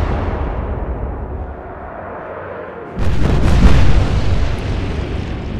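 Naval ship guns in the Atlantic Fleet video game fire with a sudden heavy boom partway through, followed by a rumbling burst of shell explosions that swells loudly and then decays over a steady low background.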